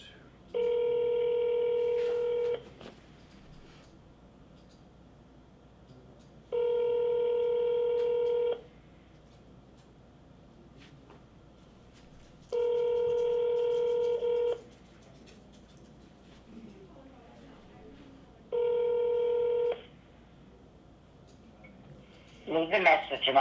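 Four separate bursts of steady electronic telephone dialing tones, each lasting about two seconds with quiet pauses between, from a phone dialing insurance leads during a sales call, with a brief rustle at the end.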